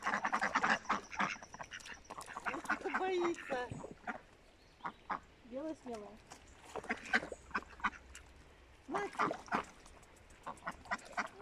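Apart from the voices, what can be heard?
ducks quacking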